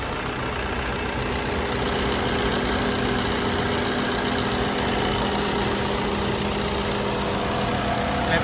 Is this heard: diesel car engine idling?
yes